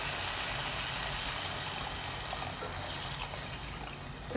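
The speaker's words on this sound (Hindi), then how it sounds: "अब हम इसमें डालेंगे पानी" Water poured into a pan of fried minced meat, a continuous broadband pouring and splashing rush that stays fairly steady and moderately quiet, with no talking.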